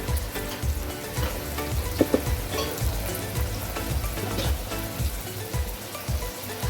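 Tomatoes and turmeric frying in a pan at home, a continuous crackling sizzle with soft stirring scrapes and occasional louder pops, close and steady with no talking.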